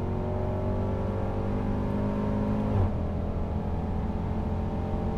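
A 2018 Range Rover Sport SVR accelerates at full throttle, its engine a steady, loud, close drone with rising harmonics and a brief surge partway through, heard alone without talk.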